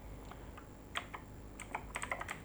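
Quiet keystrokes on a computer keyboard as a command is typed, with uneven clicky taps clustering toward the end over faint background hiss and no voices.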